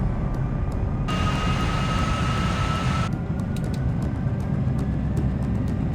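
A Korean Air cargo jet's engines roar steadily as they spool up for takeoff, a loud, continuous broadband rush with a high whining tone swelling for a couple of seconds.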